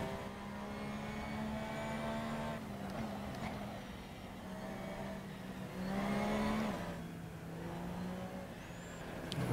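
A race car in Assetto Corsa on the Mugello circuit holds a steady, droning engine note that rises and falls as it accelerates through gears, with no talk over it.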